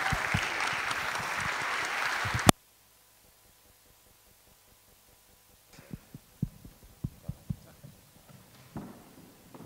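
An audience applauds at a design conference, dense clapping for about two seconds before cutting off abruptly, followed by silence and then a few faint knocks and handling noises.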